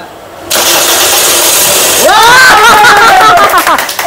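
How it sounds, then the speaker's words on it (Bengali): An overhauled engine in a workshop cranks briefly and catches on the first try, then settles into a loud, steady running note with some revving, close by, with voices talking over it. "এক চান্সে স্টার্ট, এক চান্সে।"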